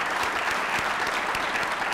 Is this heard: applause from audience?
yes